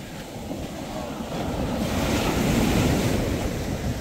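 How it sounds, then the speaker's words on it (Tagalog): Ocean surf washing onto a beach, a steady broadband rush that swells louder midway, with wind buffeting the microphone. "dyan umaabot yung alon"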